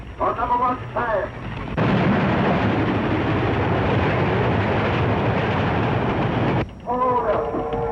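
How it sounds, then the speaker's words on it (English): Train approaching on a railway, a heavy broadband rumble and roar that surges in and holds loud for about five seconds, with voices speaking before and after it. "Bound train coming. On number 1 side."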